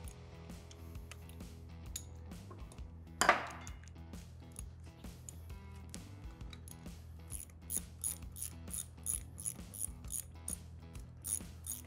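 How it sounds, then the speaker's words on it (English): A T40 Torx bit on a ratchet backs out the front brake rotor bolts of a Harley-Davidson Sportster, giving close, repeated metallic ratcheting clicks in uneven bursts with no talking. "Then you can take your T40 Torx bit and finish taking the bolts out of the rotor."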